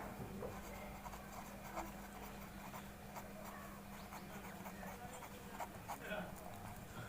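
Chalk or marker scratching on a board during a physics lesson, with short repeated strokes under a teacher's continuous speech in a quiet room.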